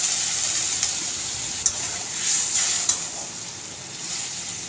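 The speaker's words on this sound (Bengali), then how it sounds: "মশলাটাও ভালো করে কষা হয়ে গেছে। এবার আমি জল দিয়ে দিলাম।" Water poured into a pan of well-fried spice masala for stuffed pointed gourd, a steady broadband sizzle and hiss with a few brief sharp clinks and stirring touches, no talk.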